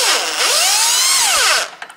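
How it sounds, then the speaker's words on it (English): An electric drill driver loosens a 12 millimeter bolt on a vehicle horn, a loud whine rising in pitch, holding, then dropping before cutting off with a couple of small clicks. "I need to open this this bolt, and I can use this electric drill driver"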